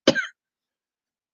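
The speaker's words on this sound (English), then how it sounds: "See, dry cough, COVID." A single short dry cough, close and fairly loud, followed by silence.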